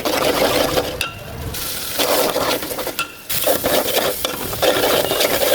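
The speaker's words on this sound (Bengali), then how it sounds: "চিংড়ি মাছটা কষাবো আমি এখন লাউটা দিয়ে দেবো" River prawns and bottle gourd sauté in a pan under a loud, continuous sizzle, while a spatula scrapes and clinks against the metal in an uneven rhythm with short pauses.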